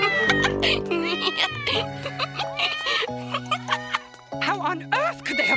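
Several cats meow repeatedly at close range in quick overlapping calls, with a few voices mixed in among them.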